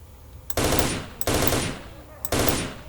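Three loud bursts of automatic 9x39 rifle fire ring out in the shooter game Stalker: Shadow of Chernobyl. Each burst is a rapid string of shots, and the bursts are spaced evenly with brief gaps between them.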